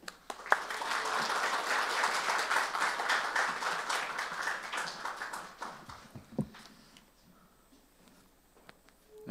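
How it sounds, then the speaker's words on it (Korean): A congregation at a Korean church Sunday service claps to welcome a guest pastor: dense, sustained applause swells quickly, holds for several seconds, then tapers into scattered claps and quiet. "박수로 맞이하겠습니다"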